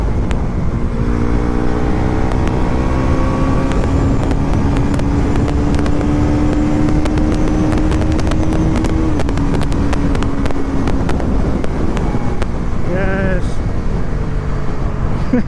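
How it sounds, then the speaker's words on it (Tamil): Heavy wind blast roaring past a rider on a Bajaj Pulsar NS 400Z above 130 km/h: a loud, constant buffeting rush with a steady engine drone underneath throughout. "130 போயிட்டா விண்ட் பிளாஸ்ட் ரொம்ப ஹெவியாக இருக்குது."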